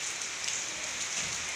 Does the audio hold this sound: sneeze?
no